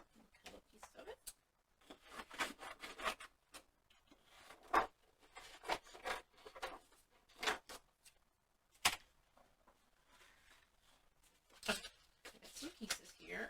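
Scissors or a blade cut through a piece of thin plastic sheet with short, close snipping and rustling bursts, while someone talks over the work.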